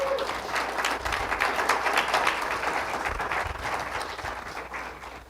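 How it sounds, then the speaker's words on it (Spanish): A church congregation applauds during a Spanish-language service, a full, continuous round of clapping with a low rumble beneath that slowly eases toward the end. "Démosle un aplauso al Espíritu Santo."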